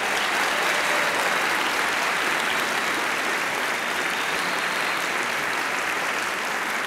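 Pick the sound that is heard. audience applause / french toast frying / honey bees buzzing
audience applause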